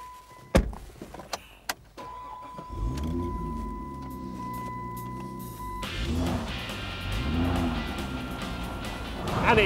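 An old hot rod Ford car, insured for £80,000, runs its engine: a few sharp knocks, then a steady whine, and a deep rumble rising and falling as it pulls away, fairly loud and close.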